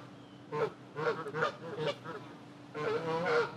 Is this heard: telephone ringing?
no